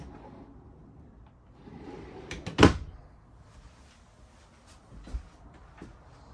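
Large drawer beneath the couch of a 2024 Merhow Summit 7309 RK-S horse trailer's living quarters slides and shuts with one sharp close thump, then a softer knock later in a quiet room.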